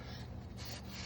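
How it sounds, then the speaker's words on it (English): Brake shoes on an EZGO golf cart being scrubbed in place without removal, giving a steady, continuous close rasping scrub that runs the whole moment with no talk. "So just do the scrubbing right on here."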